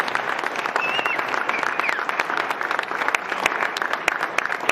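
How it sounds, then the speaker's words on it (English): Dense, sustained applause from an audience at a lecture on courtroom conduct, many hands clapping steadily and loudly for the whole stretch with a few voices faintly underneath. "Let's give them a round of applause."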